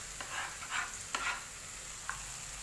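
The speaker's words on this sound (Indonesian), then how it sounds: "Minyaknya udah panas, kita masukin bumbu-bumbunya." Spices fry in hot oil with a soft, steady sizzle, stirring scrapes and a few sharp taps against the pan, quiet and close, with no one talking.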